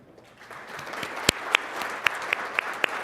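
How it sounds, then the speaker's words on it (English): Applause at an Ohio higher education event, building from quiet into steady clapping with a few sharp individual claps standing out, moderately near, no talk over it. "And I want you to give them all a round of applause."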